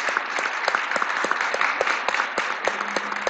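An audience at a critical-thinking forum in Fortaleza, Brazil, applauds after an official is introduced: steady, dense clapping from a sizable crowd, with sharp individual claps standing out near the listener and no speech over it.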